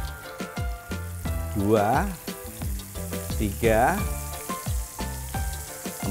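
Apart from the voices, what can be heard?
sautéing aromatic spices and base seasoning in a pan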